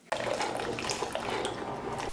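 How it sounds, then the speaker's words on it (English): Hot water pours from a Keurig coffee maker into a bowl of oatmeal, a steady close splashing trickle that starts abruptly and runs continuously without talk. "then pour some hot water from the Keurig."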